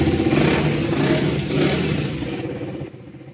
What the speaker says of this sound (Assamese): গাড়ীখন এবাৰ ষ্টাৰ্ট কৰি দিছো